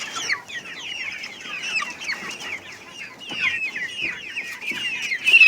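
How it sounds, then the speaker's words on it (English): Many chickens cluck and chatter continuously inside farm cages, a busy overlapping flock sound at close range with a louder squawk near the end. "Our chicken cages."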